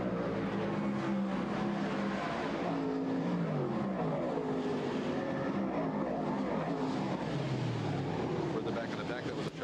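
Stock cars roar around an oval track at the Fay's 300 in Syracuse, a continuous loud engine drone with passing cars rising and falling, while a commentator talks over it throughout.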